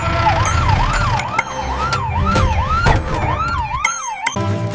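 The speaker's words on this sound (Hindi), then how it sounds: "एम्बुलेंस अस्पताल के गेट पर पहुंच गई है।" A cartoon ambulance arriving at a hospital gate sounds a fast, steady up-and-down wail that repeats evenly and loudly, with clanks and thumps mixed in, then cuts out abruptly just before the end.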